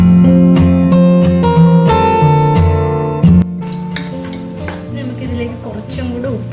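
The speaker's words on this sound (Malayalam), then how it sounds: "ഇതിനകത്തേക്ക് ഇട്ടിട്ട് ജസ്റ്റ് ഒരു 5 മിനിറ്റ് ഒന്ന് ഇങ്ങനെ ഇതിലിട്ടൊന്ന് വഴറ്റി കൊടുക്കുക." Fried chicken pieces are stirred and sautéed in a pressure cooker for chicken biryani, with scraping, shifting and a soft sizzle. A sustained tonal background runs underneath.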